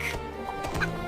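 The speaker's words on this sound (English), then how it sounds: "the hen cackled" A single short cartoon hen cluck, close and fairly quiet, lasting about a second.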